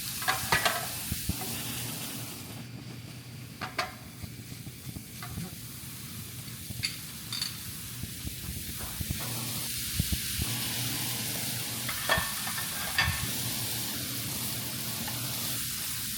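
Lean chorizo fries in a pan for taco night, a steady close sizzle and hiss with occasional scraping stirs and small pops throughout, without talk.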